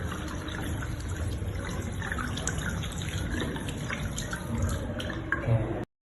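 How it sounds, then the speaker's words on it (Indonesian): Water runs steadily from a tap as hands are rinsed at a lab sink, a continuous close trickling and splashing wash with no speech, lasting about six seconds before stopping. "Dan setelah itu kita bilas dengan air mengalir."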